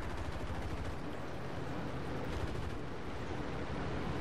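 Dense, continuous gunfire from a War Thunder plane in air combat, a steady unbroken rattle of rapid shots filling the whole stretch at close range with no talk over it.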